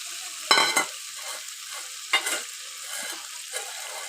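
Small kachki fish frying in a pan with soft-cooked eggplant and tomato, a continuous gentle sizzle with a few louder stirring bursts, close by and without voices.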